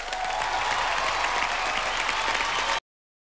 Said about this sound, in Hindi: नसीम, पूजा और श्रुति के लिए जोरदार तालियां हो जाए।